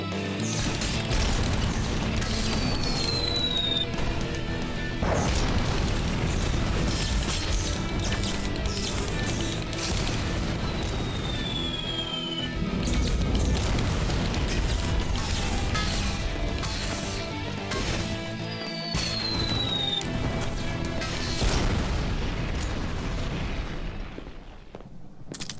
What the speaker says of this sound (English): Hey, we got airstrike.